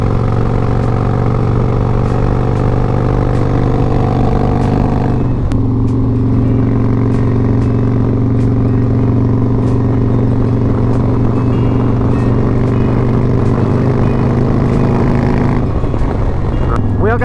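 A Harley-Davidson Road Glide motorcycle cruises in sixth gear on twisting roads, a loud steady low engine drone with wind noise and a brief shift in tone partway through.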